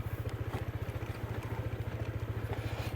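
A Honda PCX scooter rolls downhill on a steep East Bali road, its engine giving a steady low rhythmic putter with light rattle, close and moderately loud, no one talking.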